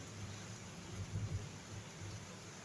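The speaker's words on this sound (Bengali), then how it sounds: "আজকে থেকে বৃষ্টি শুরু হবে বিদ্যুৎ সহ, তো সেটা কিন্তু শুরু হয়ে গেছে।" Faint, distant thunder rumbles low beneath a steady wash of rain during a storm, swelling briefly near the middle before settling back into the constant hiss of falling water.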